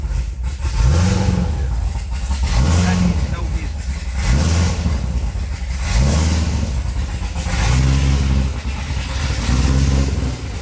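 A cammed Corvette C7 Z06 engine rumbles loudly at a cold start and is revved repeatedly, each blip rising and falling in a rough, lopey rhythm about every two seconds.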